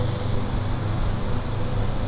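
A Honda CB500X motorcycle rides through heavy city traffic, a steady close drone of engine and wind noise with no break.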